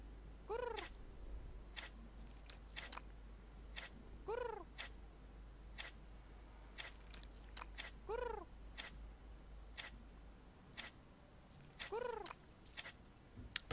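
A cat in the adventure game Edna & Harvey: Harvey's New Eyes gives soft, repeated meows roughly every four seconds over a low purr and scattered ticking, all quiet and close.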